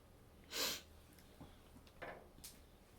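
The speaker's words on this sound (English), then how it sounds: "Sorry, I'm like sniffing." A person sniffs several times at close range during pollen season, with short breathy intakes at uneven intervals and one louder sniff early on, against a quiet room.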